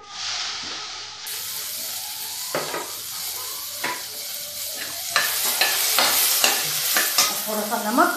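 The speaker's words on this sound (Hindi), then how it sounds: "अब इसे डाल देते टमाटर।" Tomatoes sizzle and fry in a hot pan with steady hissing, while a spoon stirs and scrapes the pan in repeated close, sharp strokes that grow busier toward the end.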